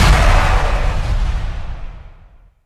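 A single deep, booming firecracker blast from a mascletà, pitch-shifted lower, with a rumbling character that rolls out and decays over about two seconds.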